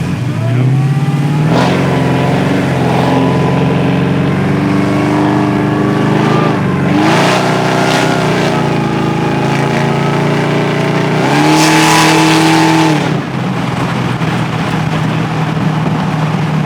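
A 1962 Impala with more than 1,000 hp, riding on air bags and 24-inch wheels, cruises with a deep, loud V8 rumble that rises and falls through repeated throttle swells and gear changes.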